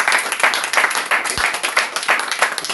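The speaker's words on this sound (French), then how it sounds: "Applaudissez pour voir alors." A congregation at a prayer service claps together in a brisk, continuous burst of hands, close and even across the short stretch.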